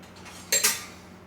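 A metal spoon clinks against a plate in a kitchen while breakfast is cooked, a single short bright clatter, close by and without talk.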